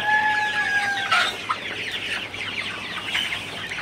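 Sonali super hybrid chickens, 51 days old, clucking and calling at close range, with several overlapping birds and a steady background of coop noise.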